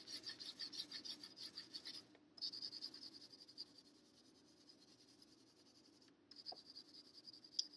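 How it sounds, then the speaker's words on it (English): Graphite pencil shading over a self-portrait drawing gives a faint, close, continuous scratchy rasp of rapid back-and-forth strokes, pausing briefly twice before resuming. "The goal is just to lay graphite over the back of all of your detail."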